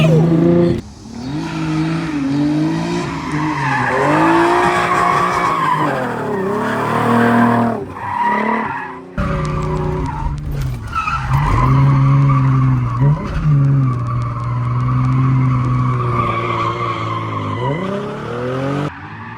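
A Nissan 300ZX Z32 with a welded VLSD differential street drifting, loud sustained tire squeal and skidding over a revving engine that rises and falls, with a brief break partway through.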